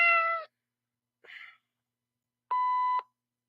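A censor bleep over a swear word: a steady electronic beep tone lasting about half a second, following two short bursts of other sound, with no talk.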